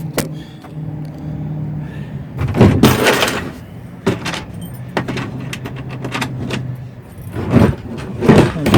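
A car roof-top cargo carrier lid being lowered and pressed shut, several close plastic thumps and clunks with rattling, and a few quieter handling sounds between them.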